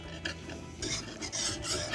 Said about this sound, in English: so we're gonna stir, stir, stir.